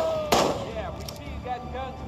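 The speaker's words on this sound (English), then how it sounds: "Stop shooting!" Gunfire in the Days Gone video game: a single loud sharp shot near the start, followed by a quieter noisy game scene with talk around it.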